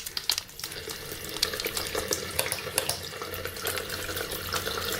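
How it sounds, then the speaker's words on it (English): Warm water runs steadily from a tap into a sink as hands are washed beneath it, a continuous close splashing hiss with small irregular splatters throughout. "Wet your hands under warm running water and add soap."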